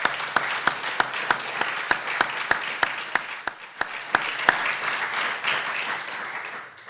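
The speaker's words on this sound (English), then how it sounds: "could we have a round of applause, please?" Audience applause closes a poetry and mental health panel at Ledbury Poetry Festival, a steady crowd clapping with a few sharp, evenly spaced louder claps standing out near the front before the sound thins and fades toward the end.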